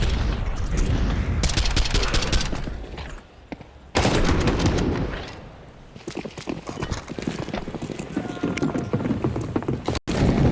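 Rifle gunfire in Counter-Strike during a professional esports match, with dense rapid bursts of shots and clatter filling the mix, sustained and loud, briefly dropping out before resuming.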